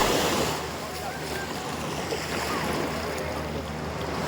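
Steady surf rolls onto Railay Beach on the Andaman Sea, a continuous broadband wash with no distinct breaks, heard up close and fairly loud, with a faint hint of voices or boat noise underneath.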